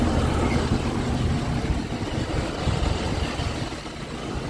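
A Ford F250 truck creeping forward at low speed, a steady rumbling engine with broadband road and tire noise, close and moderately loud, with no voices.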